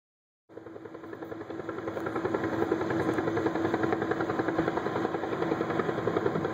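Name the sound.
Northrop Grumman LEMV military airship in test flight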